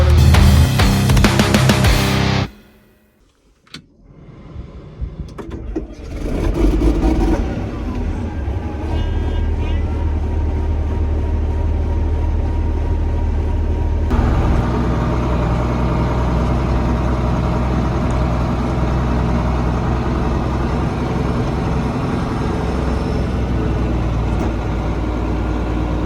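A farm tractor engine runs steadily at close range during refuelling, a continuous low rumble that drops out briefly near the start and then holds evenly, with some people talking over it.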